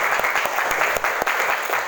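Classroom of high school students clapping hands together in a steady, rhythmic group clap, loud and close, with no talk over it.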